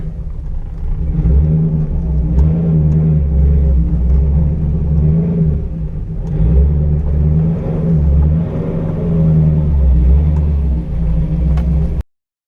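A C5 Corvette engine runs loudly and close for about twelve seconds, its deep rumble swelling as it revs up and eases back, then cutting off abruptly.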